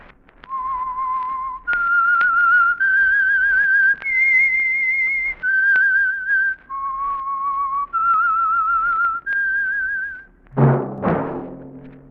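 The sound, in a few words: whistled theme tune of The Whistler radio show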